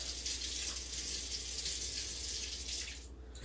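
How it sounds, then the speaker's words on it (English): Tap water runs into a kitchen sink to rinse a spoon, a steady close hiss and splash that cuts off near the end, followed by a short knock. "That'll rinse my spoon off."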